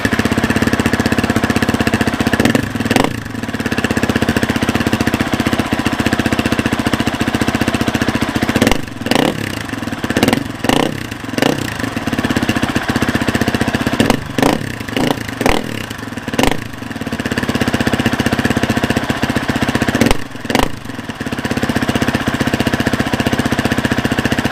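A motorcycle fitted with a Pro Moto Billet ultra silent muffler insert, started cold, runs at a steady idle with several sharp throttle blips in clusters, loud and close with a rough, chuffing exhaust note.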